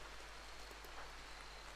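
Rain falling in the Rimworld video game, a steady, soft, even hiss of rainfall with no talk over it.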